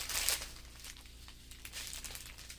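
Plastic bags of diamond art drills get crumpled by hand, giving close, crackly crinkling in a few bursts over about two seconds.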